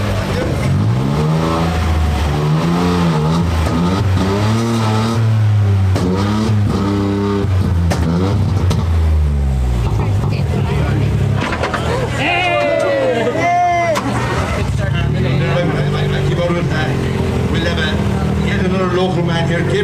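A Toyota Corolla Twin Cam rally car revs at a rally ceremonial start, its engine rising and falling in repeated loud blips close by, amid crowd babble and nearby voices.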